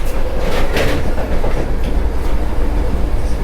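Vande Bharat Express (train 20701) running between Nellore and Tirupati, heard from inside a shaking coach: a loud, steady rumble with rattling and clickety-clack wheel knocks throughout, no voices.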